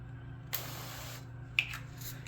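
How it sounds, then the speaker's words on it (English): Two short bursts of cooking spray onto a cast iron pan, the first a sustained hiss of about half a second, the second shorter, over a quiet low hum. "So I'm just going to spray the bottom of the cast iron."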